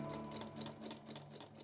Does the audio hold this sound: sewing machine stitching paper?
yes